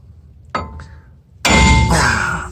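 Sharp metallic clangs from a hammer striking a wheel stud on a 2006 GMC hub during a brake job: two quick light taps, then one loud ringing blow that is followed by a second hit, all close by.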